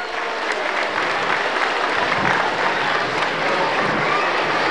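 Loud, steady applause from an audience at a public event in Sacaba, Cochabamba, filling the whole stretch with dense clapping.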